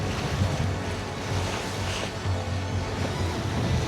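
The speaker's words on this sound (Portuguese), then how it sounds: "Um vento gostoso e balança pra caramba." Wind and sea aboard a sailboat on the open ocean toward Fernando de Noronha: steady, buffeting wind noise over a low churning wash of water, continuous and close to the microphone.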